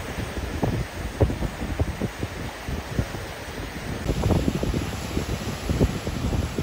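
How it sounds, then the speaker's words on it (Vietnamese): Strong seaside wind at Vung Tau buffets the microphone in continuous roaring gusts with rumbling low bursts, mixed with a broad wash of surf and no voices. "đây là trời thì cũng đang biển gió khá là mạnh"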